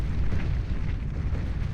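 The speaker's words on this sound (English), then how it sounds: "Has a twin rotary Gatling cannon as well as a heavy impulse blaster. Firing hot condensed matter out into oblivion." Heavy impulse blaster fire alongside a twin rotary Gatling cannon in the strategy game Beyond All Reason: a dense, continuous low rumble of blasts and booms at steady loudness, with no clear gaps between shots.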